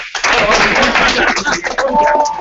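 Brief burst of clapping from a small group at a memorization training session after a recitation of The Red Wheelbarrow, loud and close, with voices talking over and after it.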